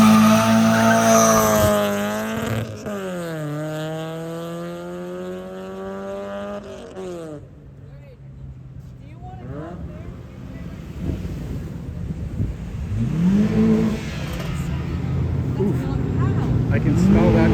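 A car leaving a car show near an airport revs hard with rising and falling engine whines, then its tires squeal sharply as it pulls away, loud and close through wind buffeting on the microphone.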